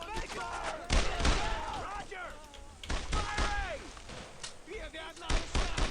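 Gunfire in the World War II shooter Brothers in Arms: Road to Hill 30, sharp shots and bursts crackling through the battle, mixed with shouting soldiers and loud, near thumps.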